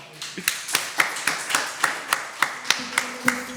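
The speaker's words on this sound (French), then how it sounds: "faites d'abord déjà un tonnerre d'applaudissements pour le Zongo Boy" Rhythmic clapping for the Zongo Boy, roughly a dozen crisp, evenly spaced claps at a steady beat, close and moderately loud, with a faint voice or tone underneath toward the end.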